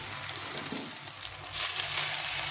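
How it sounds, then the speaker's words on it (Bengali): Chopped Malabar spinach drops into a hot frying pan for a Bengali chorchori, with a steady sizzle and crackle that swells louder and brighter partway through, close and without talk. "এখন আমি দিয়ে দেবো এই পুঁই শাকটা, যেটা আমি কেটে রেখেছিলাম আলাদা করে,"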